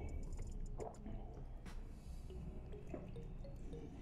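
Water splashes and drips as it runs through the small inner filter of a Pretul 1300 PSI pressure washer during a rinse, with irregular trickles and drops close by at a quiet level.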